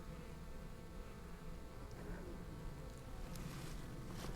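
Honey bees buzz faintly around the spot where their hive sat on a tire after it was moved, a thin, continuous outdoor hum with some wind noise and no speech.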